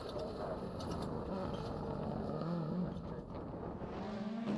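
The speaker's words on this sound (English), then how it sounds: "Guy Smith leads us off the line for the start of the final stage" A rally car launches off the start line at Donington Park, its engine roaring loudly and steadily with a rising, strained note that holds for the whole stretch.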